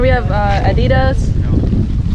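Strong wind buffets a boat on Harrington Sound, Bermuda, roaring loudly against the microphone while a person speaks briefly over it at the start.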